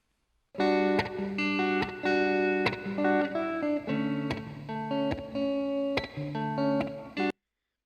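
An electric guitar picks a rhythmic chord pattern with frequent, regular strums and shifting notes, played alone at a moderate level for several seconds.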